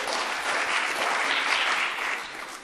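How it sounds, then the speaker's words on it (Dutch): An audience applauds as a speaker is welcomed at a talk. The clapping is steady and continuous, moderately loud, and thins slightly toward the end, with no voices over it. "Applaus alsjeblieft."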